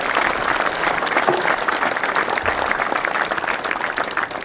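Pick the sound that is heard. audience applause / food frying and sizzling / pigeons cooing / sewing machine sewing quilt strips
audience applause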